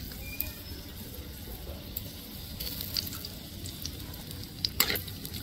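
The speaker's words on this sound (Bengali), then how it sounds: "কড়াইয়ের মধ্যে আরেকটু তেল দিয়ে আমি 2টো শুকনো লঙ্কা আর কালো জিরা দিয়ে দিব তেলের মধ্যে।" Dried red chillies and nigella seeds sizzle in hot oil in a karahi, a steady close crackle with a few sharper pops near the end and no talk.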